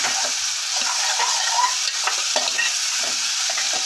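Chili powder sizzles steadily in hot oil for a mutton leg curry, a constant bright crackling hiss with small pops and occasional stirring, close and alone without talk.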